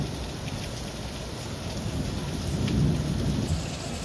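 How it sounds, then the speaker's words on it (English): Heavy rain pours steadily with a low rumble of thunder building and swelling midway, a dense constant wash outdoors beside a pool with no voices. "so much rain happening"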